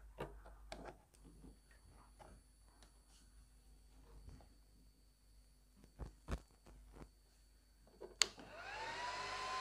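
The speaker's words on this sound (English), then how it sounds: "let me give power to this router" A Cisco router is powered on and begins booting, starting with faint clicks and ticks over a low hum, then its cooling fan spins up into a loud, steady whir near the end.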